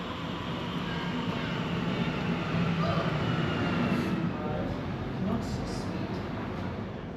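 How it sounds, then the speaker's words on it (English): A train pulls into a railway station with a steady, loud rumble and hiss that swells slightly midway and stays unbroken throughout. "my train is pulling in"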